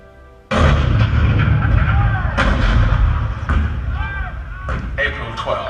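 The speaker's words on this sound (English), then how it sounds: "The cannon spoke for war, bitter, violent, and devastating." Cannon fire at Fort Sumter in 1861, a sudden loud boom followed by further heavy blasts and rumbling reverberation, with a voice speaking over the barrage.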